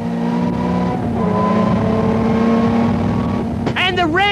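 A 1988 British Touring Car Championship car's engine drones at high revs from inside the cabin heading toward the Redgate corner, a steady loud buzzing tone that dips and shifts briefly, before a commentator's voice breaks in near the end.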